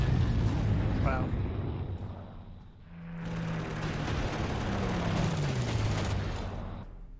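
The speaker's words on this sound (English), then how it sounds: "That's some rough bombing." Bombing explosions in the wartime strategy game Panzer Corps, a dense rumbling barrage of blasts that swells, dips briefly, then builds again, with a tonal whine sliding downward partway through.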